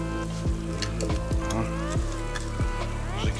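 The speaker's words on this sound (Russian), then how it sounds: "Закипает." Pot of water coming to a boil at a forest camp cordon, a close, continuous sizzling bubble with repeated sharp crackles and pops roughly every half second.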